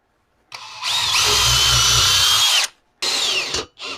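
A power drill bores a pilot hole into a wall stud, a loud close whine that spins up, runs steadily for about two seconds, stops, then gives two shorter bursts.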